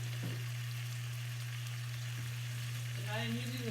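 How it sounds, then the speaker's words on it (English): Chicken thighs browning in hot vegetable oil give a steady, even sizzle throughout, with a faint voice starting near the end. "right now I'm browning some thighs, chicken thighs"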